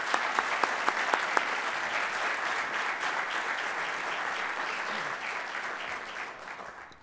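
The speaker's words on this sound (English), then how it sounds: "Let's give him a round of applause." An audience at a school district evening event gives a round of applause, opening with a few sharp individual claps before dense clapping fills the room and tapers off at the end.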